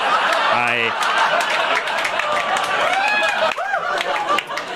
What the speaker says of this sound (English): I can't believe you're applauding that.